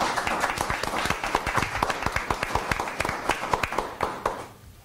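A round of applause at a board meeting, a small group clapping briskly and fairly close, the claps irregular and thinning out before fading at the end.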